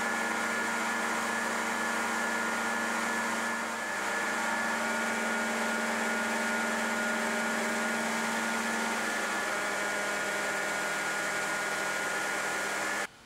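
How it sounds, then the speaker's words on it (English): A grinder shapes the curved edges of a steel skeleton knife, producing a steady loud whine with a constant hum and abrasive hiss that holds unbroken for the whole stretch. "the radii for several of the curves will be made using various wheels on the grinder"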